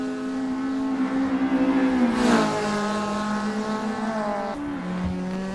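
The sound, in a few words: race cars braking late into a hairpin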